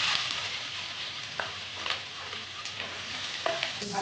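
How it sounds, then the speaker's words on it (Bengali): Chopped onions fry in hot oil with cumin, cardamom and cloves, giving a steady, close crackling sizzle broken by occasional soft scrapes of a stirring spoon. "ভালো করে ভাজবো আমি পেঁয়াজটা"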